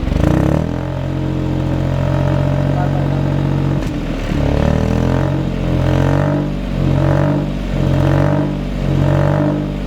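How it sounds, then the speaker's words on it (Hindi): Hyundai Venue N Line with a twin exhaust revving hard, a loud close engine note rising and falling in several throttle blips after an initial sustained roar. "ट्विन एग्जॉस्ट आपको इसमें मिलेंगे। एंड ये सिर्फ देखने की ही नहीं है, अब इसमें से आवाज़ कैसी आती है मैं आपको वो दिखाता हूँ।"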